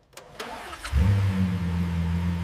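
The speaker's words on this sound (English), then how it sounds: "Listen to that V12." A Lamborghini V12 engine fires up after a few soft clicks and settles into a steady, deep idling rumble close by.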